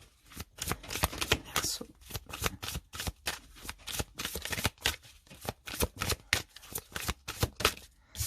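Oracle cards are shuffled by hand in rapid, rhythmic bursts of crisp riffling and slapping, close and loud, continuing steadily with a single word spoken briefly.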